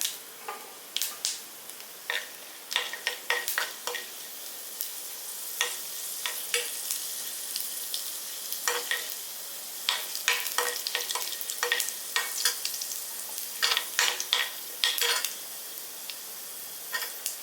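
Mustard seeds and chana dal crackle in hot oil with a steady sizzle, peppered throughout by rapid, irregular sharp pops from the bursting seeds, close and fairly loud with no voices.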